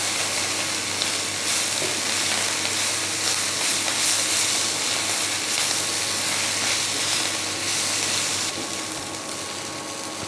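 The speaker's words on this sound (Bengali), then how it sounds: "আলুটা সিদ্ধ হয়ে গেছে, আর একটু ভেজে নেবো ভালো করে" Boiled potato and moringa greens frying in a pan, a dense, steady sizzle with a low constant hum beneath, close and unbroken for several seconds, with no talking.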